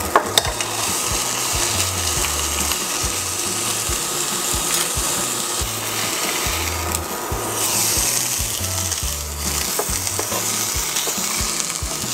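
Pork for patatim browning in a dry pan without oil, a steady close sizzle and crackle running throughout with faint scraping, no voices.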